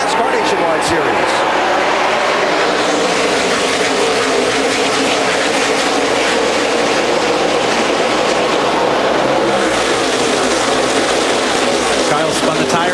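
NASCAR Nationwide Series stock cars race at speed at Texas, a steady, loud roar of engines that fills the whole stretch, with voices talking over it.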